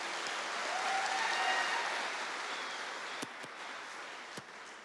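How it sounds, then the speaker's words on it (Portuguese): A church congregation applauds during a celebration service, a soft, distant wash of many hands clapping that tapers off, with a few sharper isolated claps near the end. "Então dá um aplauso aí ao Senhor."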